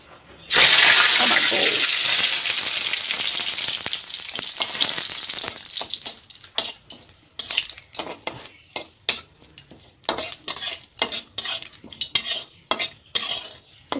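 Bay leaves frying in a pan, stirred with a utensil: a loud sizzle bursts in near the start and then gives way to a run of sharp, rhythmic scrapes and clinks against the pan, with no voices.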